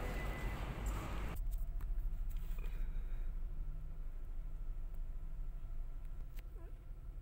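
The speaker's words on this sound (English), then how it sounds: "Guys, traffic na guys." Steady low road rumble and broadband hiss inside a car stuck in traffic, fairly loud and continuous, with a louder burst of noise at the start and a few faint ticks and clicks later.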